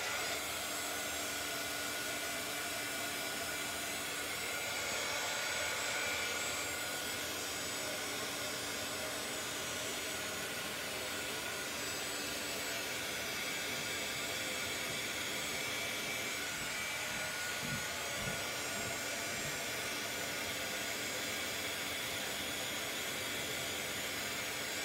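A heat tool melting embossing powder on a paper tag blows with a constant, airy whoosh like a hair dryer. The roar is steady and fairly loud, runs unbroken throughout, and carries no talk.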